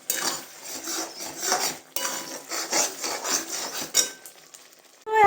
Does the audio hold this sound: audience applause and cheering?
no